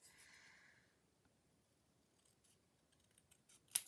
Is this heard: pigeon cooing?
no